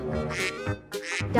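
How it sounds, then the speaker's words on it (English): A duck quacks in a children's animal-naming animation. Several loud, nasal, honking quacks run back to back, close and clear with no talk over them. "Duck."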